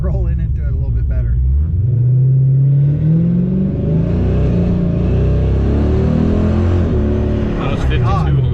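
A supercharged Dodge Challenger R/T engine revs and pulls hard under full throttle, a loud continuous rumble rising in pitch through the run, with a voice speaking briefly at the start and again near the end.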